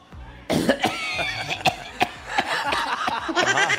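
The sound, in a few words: imitated cough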